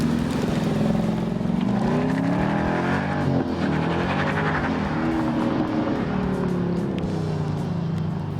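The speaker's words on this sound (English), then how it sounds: "it sounds sweet with quad exhaust" A 2012 Ford Mustang Boss 302 V8 with quad exhaust rumbles and revs loudly and continuously, its deep exhaust note rising and falling as the car accelerates, with no voices.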